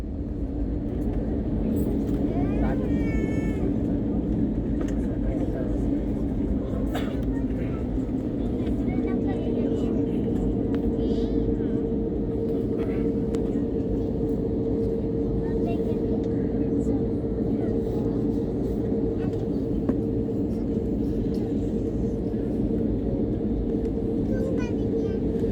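Airbus A321neo jet engines of an IndiGo airliner at takeoff, a loud steady broadband rumble and roar heard from inside the cabin, with a sustained tone rising partway through and faint voices underneath.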